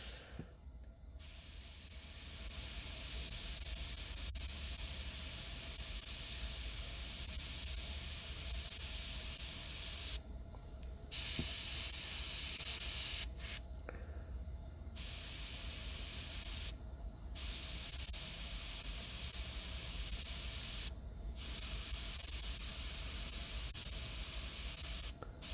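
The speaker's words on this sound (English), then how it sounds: "sorry about the compressor" An airbrush sprays paint with a steady broadband hiss broken into several bursts and pauses, while a compressor hums low and constant beneath it.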